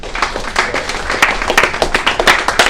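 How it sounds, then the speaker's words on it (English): An audience at a real estate wholesaling seminar breaks into applause, a close, loud burst of many hands clapping in uneven rhythm that continues for a few seconds. "Give him a round of applause."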